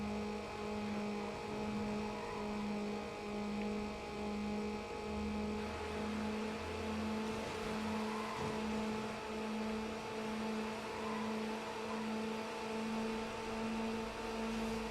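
Peugeot 206 engine in the racing video game NFS Underground, a steady sustained drone with harmonic hum throughout, moderately loud and continuous with slight pitch shifts and no talking.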